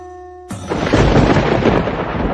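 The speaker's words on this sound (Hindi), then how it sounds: "स्वामी, ये बिना मौसम की गरजती हुई बारिश हमें क्या संकेत देती है?" Sudden loud crack of thunder that rolls into a sustained rumble with heavy rain, breaking in after a short quiet tonal intro and staying loud throughout, an unseasonal storm.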